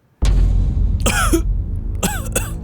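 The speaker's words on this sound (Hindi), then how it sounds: "क्या रे, खांस रहा है?" A man coughs a couple of times in a comedic scene with an inspector, sharp harsh bursts close to the listener over a steady background, with no talking during the coughs.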